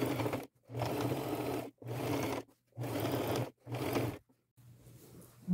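Sewing machine running a zigzag stitch around the thick edge of upcycled thrifted fabric for a layered ruffle dress, in four steady bursts separated by short pauses, fairly quiet and close with no talking.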